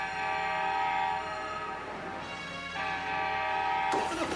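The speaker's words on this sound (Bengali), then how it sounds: "High high, train." A cartoon train rolls by loudly with a sustained, steady horn blast for several seconds, ending in a sudden burst of noise near the close.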